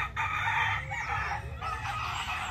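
A fighting rooster kept with hens crows in one drawn-out call across the whole moment, fairly close and clear over a low background hum.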